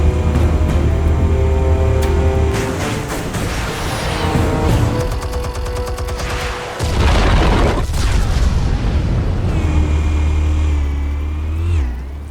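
Explosions in the Batman Telltale video game, loud booming blasts mixed with revving engine roar and bursts that resemble rapid gunfire, sustained and dense across the whole stretch with no speech.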